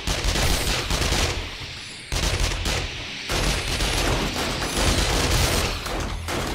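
Dense, continuous gunfire pours out against a zombie horde on Horde Night in modded 7 Days to Die, a loud, sustained roar of overlapping shots with only brief dips, no talking.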